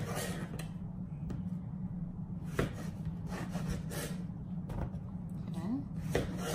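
A knife cuts through zucchini on a cutting board while mashed potatoes and sautéed zucchini are being made, giving a run of soft chopping knocks and rubbing scrapes under a steady background hum, with no voice in between.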